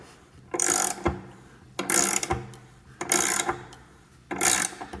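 A ratchet wrench cranks on a frame rail nutsert bolt in four loud, close bursts of rapid clicking, each separated by a short pause as the handle resets.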